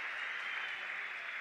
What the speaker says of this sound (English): Let's give ourselves a big round of applause for this participation.